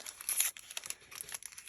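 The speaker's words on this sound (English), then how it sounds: "parchment, I think. Let's rip it all the way around." Parchment paper being torn by hand, a close crinkly rip in a few short bursts with brief pauses between, fairly quiet.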